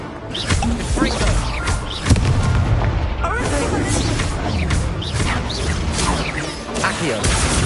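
Fiery Confringo spell blasts in Hogwarts Legacy, a dense run of booming, crackling bursts stacked over game noise and a voice casting spells throughout.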